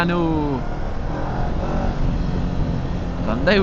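A motorcycle engine drones close by as a vehicle passes on a night ride in Sydney, with a voice speaking briefly at the start and end.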